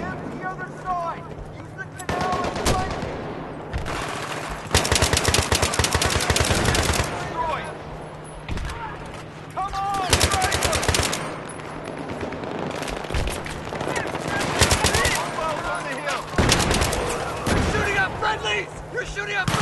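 Bursts of machine gun fire in the video game Battlefield 3 come loud and rapid in repeated volleys, with pauses between them, while voices shout over the gunfire.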